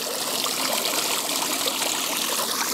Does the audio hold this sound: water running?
yes